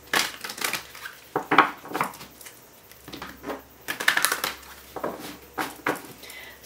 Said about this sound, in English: let's just shuffle these cards a little bit for you guys